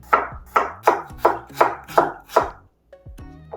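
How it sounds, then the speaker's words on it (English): A knife slices through peeled ginger on a cutting board in seven sharp, evenly spaced chops, close and clear, followed by a few lighter handling knocks. "Slice the ginger."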